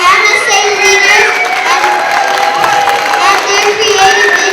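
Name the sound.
round of applause and cheering from audience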